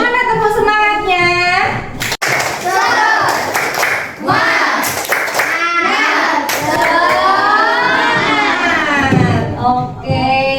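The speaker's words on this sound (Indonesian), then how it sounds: "Mana tepuk semangatnya?" Schoolchildren in an Indonesian classroom perform a rhythmic spirit clap chant, sharp patterned hand claps mixed with their loud chanting voices, close and lively.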